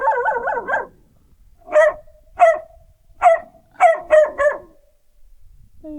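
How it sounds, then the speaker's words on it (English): A dog on a desert hike in Big Bend National Park gives a rapid wavering growl-like yowl, then a series of six sharp, loud barks close by, several spaced apart and the last three in quick succession, with brief quiet between. "He growled first, which means I thought he was a mountain lion before he started barking."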